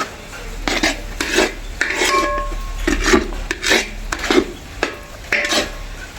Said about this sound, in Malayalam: നല്ലപോലെ നമുക്ക് ഇറച്ചി മിക്സ് ചെയ്യാം